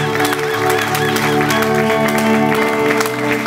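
Church congregation applauding and cheering loudly for a woman being honoured, with sustained dense clapping and acclamation mixed with steady tonal music throughout.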